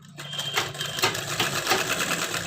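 A sewing machine stitches a blouse seam in a steady, close, continuous whir with a fast rhythmic needle chatter lasting throughout, with no talking over it.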